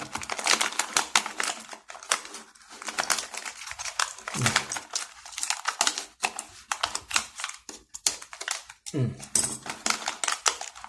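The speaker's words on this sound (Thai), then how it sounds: "เดี๋ยวเรามาตัดแพ็คดูกันดีกว่าเขาจะเป็นแบบไหนนะครับ" Plastic packaging of a transforming enduro motorcycle robot toy is cut open, producing a busy run of close crinkles, snips and plastic clicks, with brief rustling pauses.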